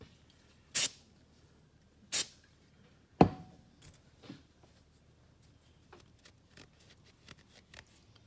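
Short bursts of aerosol gun scrubber or gun oil sprayed onto Charles Daly shotgun parts, three sharp hisses in the first few seconds followed by faint handling clicks and rustles.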